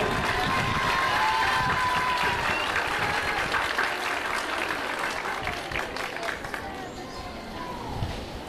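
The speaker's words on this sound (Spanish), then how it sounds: "Las recibimos a nuestras pequeñitas con fuertes aplausos." Loud, sustained applause from a crowd fills the whole stretch, dense clapping that eases slightly toward the end.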